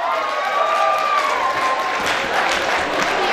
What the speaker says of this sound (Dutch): Uw applaus voor Janne Doornbos.